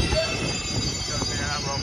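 Delhi Metro train running with a steady broadband rumble and wheel noise throughout, some faint squeal and a brief higher tone, with indistinct voices faintly mixed in.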